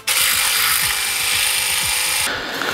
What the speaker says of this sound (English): when you're whisking, use a whisking bowl and make sure your whisk is turned on low.